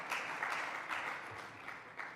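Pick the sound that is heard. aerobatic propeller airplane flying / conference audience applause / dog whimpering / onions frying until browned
conference audience applause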